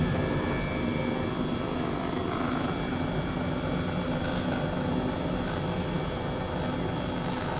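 An H135 helicopter lands at a small undeveloped airport in Microsoft Flight Simulator, with a loud, steady rotor and turbine drone running throughout and no voices.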